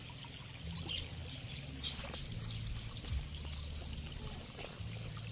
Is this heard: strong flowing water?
yes